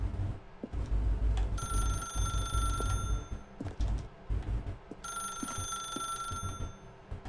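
An office telephone in The Stanley Parable rings in two long electronic bursts separated by a pause, bright and insistent over a low background rumble.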